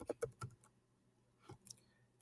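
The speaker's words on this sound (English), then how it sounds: "you'll notice when I was typing," Typing on a computer keyboard: a quick run of four or five light key clicks, a pause, then a couple more taps, quiet and close.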